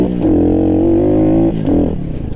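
A pit bike engine revs hard during a wheelie, one loud sustained pull of rising pitch that drops off at the shift, followed by a second shorter surge and then a fade.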